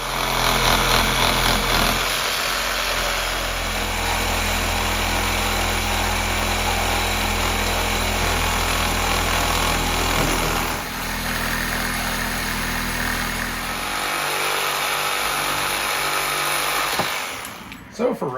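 A Sawzall reciprocating saw cuts through car material in a long continuous droning buzz, steady and loud, dipping briefly midway and stopping near the end.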